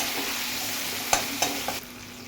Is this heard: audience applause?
no